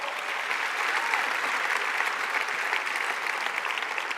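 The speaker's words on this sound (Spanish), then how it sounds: "Dale fuerte el aplauso al Señor." Church congregation clapping together in praise during a service, a steady, dense wash of applause that stays even throughout the short stretch, with no voice over it.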